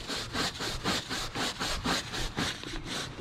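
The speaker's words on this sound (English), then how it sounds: "I'm just gonna grab the brush and scrub." A stiff brush scrubs a golf cart floor mat cleaned with Super Clean, making steady rhythmic back-and-forth strokes, about two per second, close and fairly loud with no talking.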